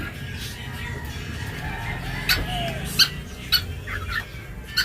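Chickens in a backyard coop, with a few short clucks and calls standing out over a steady low rustle and background noise, fairly close.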